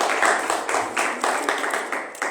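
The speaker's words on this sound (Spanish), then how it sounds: "Démosle un aplauso al Señor" Church congregation clapping together in steady, rhythmic bursts during a worship service, fairly loud and close, with a voice faintly under the applause.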